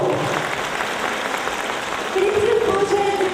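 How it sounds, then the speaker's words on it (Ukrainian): An audience applauds a folk choir at a regional folk arts concert in Orenburg Oblast, with steady dense clapping throughout. The applause swells slightly near the end, and a voice speaks faintly over it. "ваши бурные аплодисменты"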